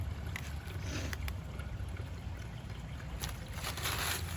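Steady splashing and trickling water runs continuously into a hole after a storm, a broad washing rush over low rumble, with a few brighter splashes rising near the end.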